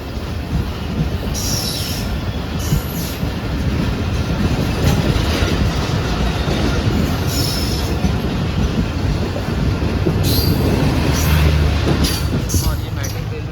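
A Bahauddin Zakariya Express passenger train rolls through a railway station on Pakistan's Main Line 1, with a steady loud rumble of wheels and carriages and repeated high squeals and hisses, close by and sustained throughout.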